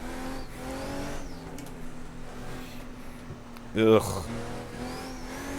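A race car engine in the video game Assetto Corsa, a steady droning hum held in third gear at moderate volume, interrupted by a short grunt from a nearby voice before the engine note carries on.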